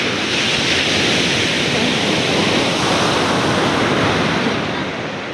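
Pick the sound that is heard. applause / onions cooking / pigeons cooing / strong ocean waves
strong ocean waves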